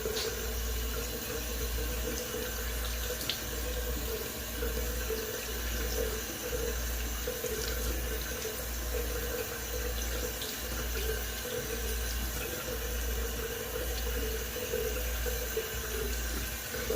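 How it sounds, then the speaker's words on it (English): Water from a tap runs steadily into a sink for a long stretch as a shaving sponge is rinsed, making a constant close splashing hiss with no talking. "I'm gonna rinse off here real quick"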